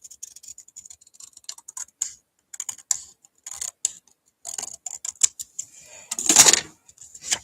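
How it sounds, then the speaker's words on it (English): Sharp scissors snipping through folded paper in a craft session, a run of short close crisp cuts and rustles with a longer, louder burst of cutting near the end. "I need my sharp scissors. We're going to try and cut this."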